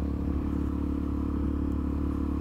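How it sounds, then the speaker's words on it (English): Suzuki DR-Z supermoto motorcycle riding, a steady close engine drone with a low pulsing thrum and a little rattle, held at an even throttle throughout. "I'm just out on the bike."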